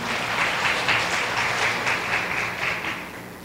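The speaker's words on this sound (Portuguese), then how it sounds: "Aplauda o Senhor." A church congregation applauding during a family worship service, a dense, continuous roar of many hands clapping, steady and moderately loud throughout.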